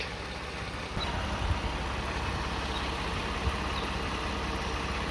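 A car engine idles steadily while it runs up to hot temperature so the transmission fluid can be checked, a constant low hum with a faint knock and a slight step up in level after the first second; no talking.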